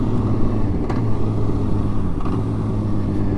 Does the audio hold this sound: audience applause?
no